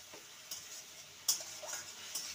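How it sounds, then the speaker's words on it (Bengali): A vegetarian spice masala for a papad dish is stirred and fried in a pan, with soft scraping strokes and a faint sizzle, plus a few sharper clinks of the utensil against the pan. "মশলাটাকে ভালো মতন কষিয়ে নিতে হবে"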